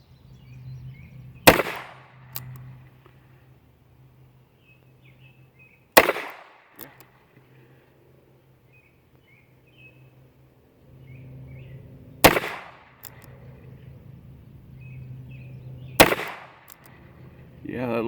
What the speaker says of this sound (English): Let's see how it shoots out of this gun.